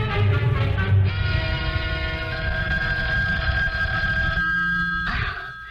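A telephone bell rings loudly and steadily in a 1970s TV sitcom scene, its sustained metallic tone filling the room for several seconds before breaking off near the end.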